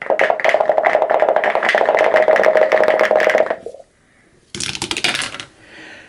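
Dice tumble down a tabletop dice tower during a wargame session, a loud rattling clatter that stops abruptly, followed after a short pause by a second burst of sharp rattling.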